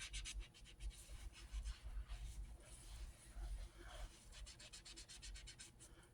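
A sponge scrubs a vinyl Cabbage Patch Kids doll in irregular bursts of faint scratchy rubbing with brief pauses between strokes, close and quiet.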